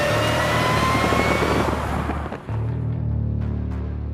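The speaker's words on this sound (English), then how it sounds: "The kind of noise that engine makes behind you, it's raw by 2018 standards" A 2005 Ford GT's engine roars loudly at high revs, drops briefly as if shifting, then climbs again in a throaty growl; no talking.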